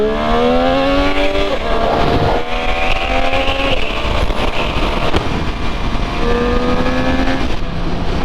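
Honda VFR motorcycle accelerating behind the rider, its engine note rising through the gears in steady pitch sweeps, heard close over constant rushing wind noise.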